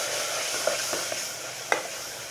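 Spices such as red chilli powder, cumin-coriander and turmeric sizzle in a pan while a spoon stirs them, giving a soft steady hiss with a few sharp scraping clicks.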